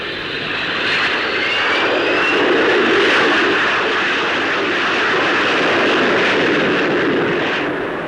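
An experimental de Havilland Gyrodyne engine, mounted in the Sperry, drives an aircraft through a loud, sustained roar that swells and eases as it passes overhead, with no talk.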